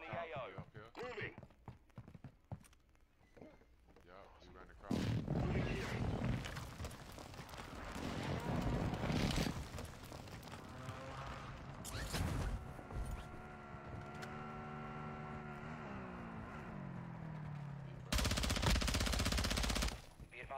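Gunfire bursts and heavy booming blasts from an airstrike in a military shooter game, loud and chaotic with rapid shots, radio chatter and a droning tone, while people talk over the action.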